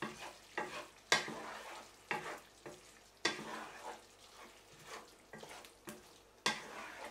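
A spoon scrapes through Katino meze, a traditional Bulgarian pan dish with crushed hot peppers, in a series of distinct stirring strokes about a second apart over a soft background sizzle, close and clear with no voices.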